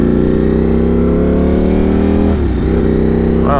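A motorcycle engine hums steadily and loudly while riding toward a racetrack, holding an even drone with a brief dip in revs near the end.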